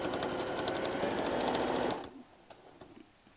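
A sewing machine stitches a strip onto a quilt-as-you-go strip quilt, running steadily and close for about two seconds before stopping, followed by faint handling noises.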